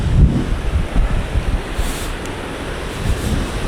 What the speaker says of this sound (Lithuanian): Ir šiandien biški vėjuota ir tokios bangos yra fainos.